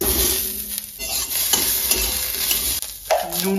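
Chana dal cooking with tomatoes in a frying pan, stirred with a spoon: steady sizzling and frying, with scraping and clinking against the pan, close and clear, with no talk.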